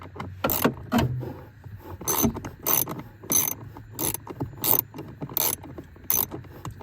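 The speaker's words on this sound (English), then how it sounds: "So you take these 3 bolts out real quick." A ratchet wrench backs out bolts from a vehicle blower motor in quick clicking bursts, about a dozen sharp, close ratcheting runs spaced irregularly over low background hum, with no talking.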